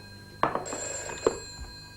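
A telephone bell rings in an indoor room, a couple of short bright trills over a sustained tone, with no talk heard.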